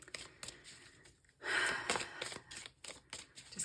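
Tarot cards being shuffled by hand, with soft papery riffles and quick flicking clicks that swell into a denser burst midway, close and quiet with no speech.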